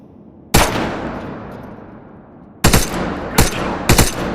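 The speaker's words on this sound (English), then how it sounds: "Fire at the edge of the container and watch the bullet rebound." Gunfire on a training firing range in the Wardogs video game, with shots aimed at the edge of a container so bullets ricochet; one loud shot with a long decaying tail, then three sharp shots in quick succession.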